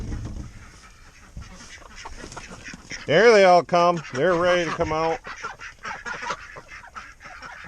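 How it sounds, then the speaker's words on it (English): Ducks and chickens in a coop inside a shed: a sudden burst of loud, close quacking and honking calls in several bursts, with a person talking quietly before and after. "Ducks and chickens."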